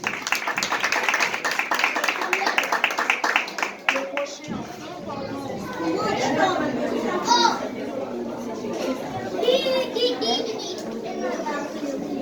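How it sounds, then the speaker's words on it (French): Warm applause at a school ceremony crowd fills the room: many hands clapping in a dense, rhythmic burst mixed with children's chatter and shouts, then giving way to a lively, noisy crowd murmur. "On applaudit Bertoni chaudement, s'il vous plaît."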